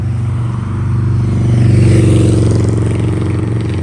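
A loud, steady engine rumble swells and fades slightly, like a motorcycle's exhaust droning close by, with no voices.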